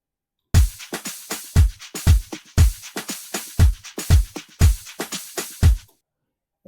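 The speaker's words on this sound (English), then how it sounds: "A clap." A loop from an Afro House sample pack runs alone: a steady groove of sharp, snappy claps layered over punchy low hits, loud and upfront. It repeats evenly for about six seconds, then stops abruptly.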